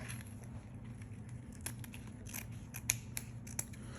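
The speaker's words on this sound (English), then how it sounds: "And then I'm going to cut this a little bit past here." Scissors snip through wired ribbon for a wreath bow: a few quiet, sharp cuts and clicks near the microphone over a low background hum.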